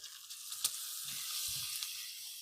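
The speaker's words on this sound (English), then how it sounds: "Let's give it a little stir." Bacon and onions sizzle in a soup pan for tortellini soup with sage and sweet potatoes, a soft steady frying hiss broken by a few low scraping thumps from stirring.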